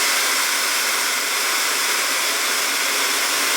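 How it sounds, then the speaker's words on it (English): Hair dryer running on its low setting, a steady, fairly loud broadband whoosh of blowing air that holds even and unbroken throughout with no talking. "So another thing I love about this dryer is that it's really, really quiet for how powerful it is."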